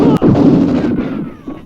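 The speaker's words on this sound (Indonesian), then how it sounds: "masih sempat-sempatnya ia melemparkan granat ke arah polisi," A grenade blast in a film scene hits hard and loud at the start, then a heavy rumbling boom rolls out and fades over a second or so, with a voice faintly underneath.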